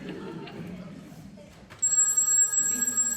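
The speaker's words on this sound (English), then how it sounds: "You manage to be happy for 5 seconds and then something starts ringing." A telephone bell rings suddenly and loudly on a stage during a musical, cutting in after quiet murmuring and continuing steadily.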